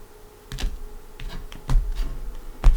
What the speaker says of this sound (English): Why am I cutting the cards?